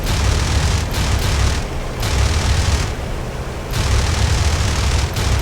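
Rapid machine-gun fire from a P-51 Mustang in the flight game IL-2 Sturmovik, several dense bursts of booming rattle over steady engine roar, loud and close with brief pauses between volleys.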